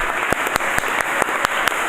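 Church congregation applauding the Lord, a steady wash of many hands clapping with several sharper, louder claps standing out at regular intervals throughout, fairly close and without talk.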